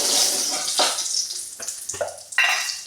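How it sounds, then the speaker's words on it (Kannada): Chillies frying in a pan for a Mangalorean basale sambar: a loud, steady hiss of sizzling oil, broken by a few brief clatters and stirring scrapes. "ಮೆಣಸು ಫ್ರೈ ಆಗ್ತಾ ಉಂಟು"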